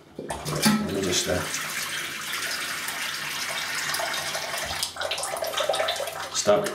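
Water runs steadily from a tap to wet a shaving brush with an Excelsior base, a close, continuous splashing rush with a brief dip near the end.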